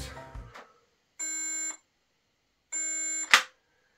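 Two clear electronic beeps from the safety lock of a Metabo MS 36-18 LTX BL 40 cordless chainsaw, each about half a second long and separated by silence, with a few sharp handling clicks around them.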